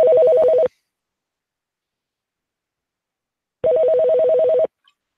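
A phone call recording is played back, and a trilling telephone ring sounds twice, loud and clear, with a long silent gap between the two bursts and no talk.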